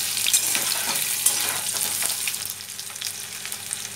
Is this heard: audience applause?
no